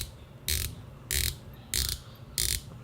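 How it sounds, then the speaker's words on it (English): Unidirectional countdown bezel on a Winfield Watch Co. Mission Lead watch being turned, four crisp, close ratcheting click bursts at an even pace, each about a fifth of a second long, over quiet background. "it's a countdown bezel, but it has 120 clicks"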